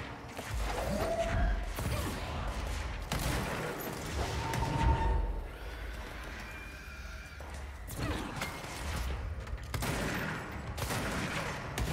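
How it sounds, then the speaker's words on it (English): Shotgun blasts from the video game Control, a few heavy booming shots spread across the stretch amid combat noise and game sounds, fairly loud and close. "Shotgun."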